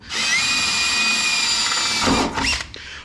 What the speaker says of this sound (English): We need our small drill bit like I had before.